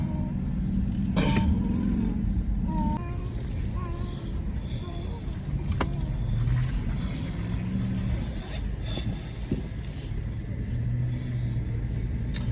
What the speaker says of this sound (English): So I'm driving very slow because this drive-thru is moving extremely slow.